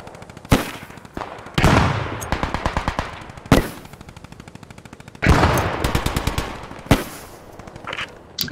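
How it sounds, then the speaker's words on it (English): Machine gun fire in the World War II shooter Post Scriptum: several loud, close bursts of rapid, evenly spaced shots, each burst lasting about one to two seconds with short pauses between, plus a few single sharp cracks. "I'm suppressing the windows from our side with the MG."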